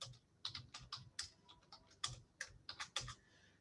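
A computer keyboard is typed on while code is written, giving a quiet, close run of uneven keystroke clicks in short bursts, with no speech.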